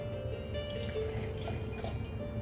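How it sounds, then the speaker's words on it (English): Amla (Indian gooseberry) water poured into a glass over a little melted honey and hot water, a steady soft trickle and drip of liquid running close and continuously for a couple of seconds. "and we add our amla water in it"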